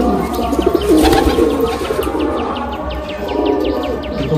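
Madrasi pigeons at close range: a soft coo near the start over a background of rapid repeating chirps and a low hum, fairly busy and steady.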